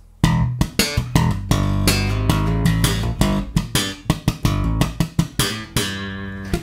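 A slap bass riff plays solo, mixing ghost notes with punchy thumbed and popped strikes in a tight, syncopated rhythm, close and clear.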